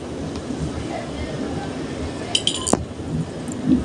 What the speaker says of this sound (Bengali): এবার আমি নেড়ে চেড়ে মিশিয়ে নেব